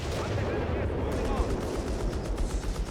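Vickers machine gun fire in the strategy game Company of Heroes 3, a dense rattling burst layered with other battle noise and booms, with a commentator talking over it.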